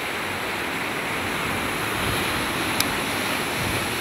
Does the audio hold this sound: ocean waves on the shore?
yes